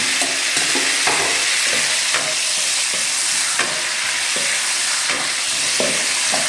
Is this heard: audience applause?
no